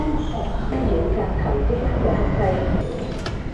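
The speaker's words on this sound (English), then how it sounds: "So let's take the metro." A Shenzhen metro train rumbles loudly and steadily from inside the carriage, with faint rail clatter and a brief squeal, while people talk underneath.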